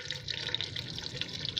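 Whole cumin seeds dropped into about half a cup of hot oil in a kadhai, giving a steady, close hissing crackle that carries evenly throughout with no talking.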